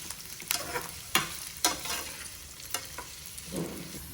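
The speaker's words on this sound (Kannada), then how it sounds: "ಈಗ ಈರುಳ್ಳಿ ಫ್ರೈ ಆಗಬೇಕು, ಸ್ವಲ್ಪ" Chopped onions fry in hot oil with a continuous sizzle, punctuated by several sharp scraping stirs of a spoon against the pan at irregular intervals, close and fairly loud.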